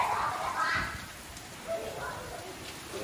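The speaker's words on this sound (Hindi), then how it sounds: "अंदर तक बारिश आ रही है, बहुत खतरनाक बारिश है" Heavy monsoon rain pours down steadily in a home garden setting, a dense continuous hiss close by with a few louder splashes, and a voice talks over it.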